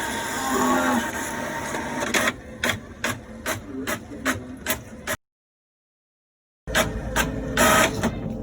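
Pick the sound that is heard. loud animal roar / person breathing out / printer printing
printer printing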